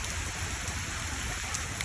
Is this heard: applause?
no